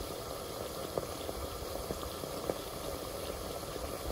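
Octopus pasta sauce simmering in a saucepan on a stovetop, giving a steady low bubbling hiss with occasional soft pops, close and continuous with no voices.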